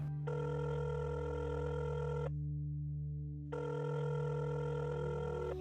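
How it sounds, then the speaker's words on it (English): A telephone rings for an incoming call in two long electronic bursts separated by a pause, loud and close over a steady low hum, with no voices. "We were able to set up a phone call with her to get some of her insight."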